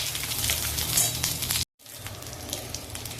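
Cumin seeds and garlic cloves sizzle and crackle in hot oil for a spicy peanut chutney, a loud steady frying hiss that cuts out briefly, then resumes slightly softer.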